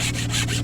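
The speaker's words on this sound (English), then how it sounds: "So I have to give a unsolicited endorsement for the Vaughn bear saw." A Vaughn bear saw cuts through wood in quick, even back-and-forth strokes, a close, steady rasping scrape with no talk.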